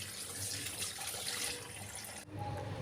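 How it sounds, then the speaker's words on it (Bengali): Fish pieces, likely rohu or catla, rinsed under a running kitchen tap, with a steady loud splash and hiss of water that cuts off sharply near the end. "মাছ আমি ধুয়ে নিলাম সবটা একসাথে"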